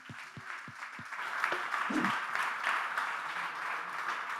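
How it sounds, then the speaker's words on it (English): Audience applause for a speaker, Dr. Bryan Mann, at a talk on speed and strength science: steady, moderately loud crowd clapping that swells slightly and holds, with a few low thumps early on. "Give him a round of applause, guys"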